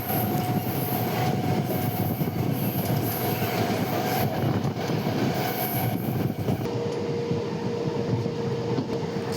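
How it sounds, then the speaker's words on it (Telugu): The Vijayawada–Guntur passenger train passes close by, a loud continuous rumble of rolling wagons with rhythmic wheel clatter and a high squealing tone from the wheels. "మనకు ప్యాసింజర్ ట్రైన్ క్రాస్ అవుతుందండి. Vijayawada Guntur passenger train."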